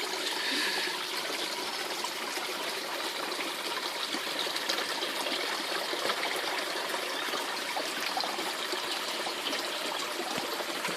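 Running water from a small garden water feature, a continuous trickling and splashing flow, close and steady, with no voices.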